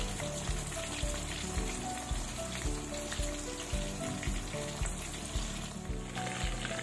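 Spicy fish frying in a pan, a steady dense sizzle with crackling oil that runs loud and unbroken throughout, with no one speaking.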